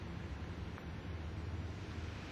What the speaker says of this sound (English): Now they're being wimpy waves.